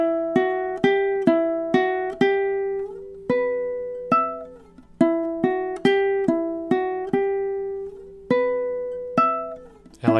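Ukulele playing the repeated closing measures of a song: bright fingerpicked notes in a flowing pattern, cycling through the same phrase several times with a brief pause between passes, played alone and close.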